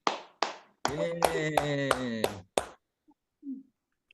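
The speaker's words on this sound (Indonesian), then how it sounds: "Kita berikan tepuk tangan sekali lagi" In a classroom peer-teaching session, a few sharp claps ring out. A voiced, chant-like stretch runs through the middle, with claps marked within it, and then two or three softer taps follow in near silence.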